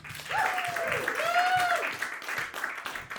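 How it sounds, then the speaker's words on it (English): A crowd applauds a comedian taking the stage at a roast battle comedy show, brief clapping under a loud announcer's voice. "start clapping right now for one of the best"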